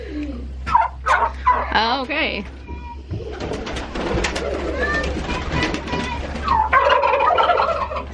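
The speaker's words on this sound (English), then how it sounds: "My son is out there calling the turkeys." Turkeys gobbling outdoors near free-ranging chickens, several loud warbling gobble bursts rising and falling over a steady low hum, with a brief spoken word between calls.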